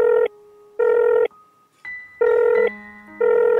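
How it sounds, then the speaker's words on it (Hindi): A telephone in a household setting gives off a repeating pattern of loud electronic tones, about four evenly spaced bursts of ringback-like signal at close range with short gaps between them, and no speech. "बस सर को फ़ोन कर लूँ।"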